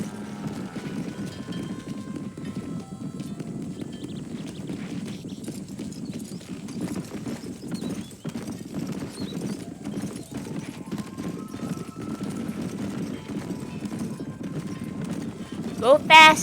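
Horse in the Red Dead Redemption game, with steady rhythmic hoof clip-clops running throughout at moderate volume while someone talks over them.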